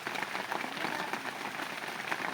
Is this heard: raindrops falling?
yes